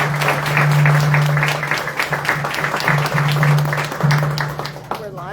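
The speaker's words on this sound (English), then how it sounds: "Let's give them all a round of applause." Audience applause for five candidates at an in-person political forum, sustained clapping from a room of people with a host's voice speaking over it.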